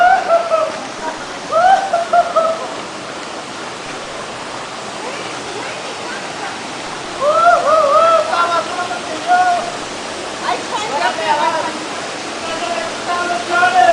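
The El Cajon waterfall in a deep canyon at Barranca de Otates roars as a steady broadband rush throughout, with voices talking over it at several points.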